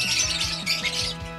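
An opaline lovebird gives harsh, repeated squawks, loud and close, in quick rhythmic bursts with no talk.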